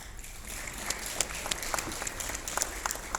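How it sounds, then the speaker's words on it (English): Applause from a crowd, steady and moderately distant, with scattered sharper claps standing out over the pattering. "Big applause for him."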